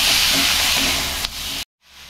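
Coriander sizzles and hisses as it sautés on a hot stone pan. The frying is loud and continuous, then cuts off abruptly near the end, leaving a faint quiet tail.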